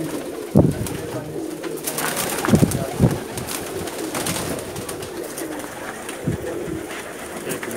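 Pakistani pigeons, Teddy and Rampuri breeds, coo in a loft at several points, with a few low soft calls standing out over a busy background of shuffling and faint ambient noise.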